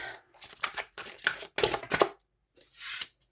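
A deck of tarot cards is shuffled close by in several quick riffling bursts, each a crisp papery flutter, separated by short quiet gaps, with nobody talking.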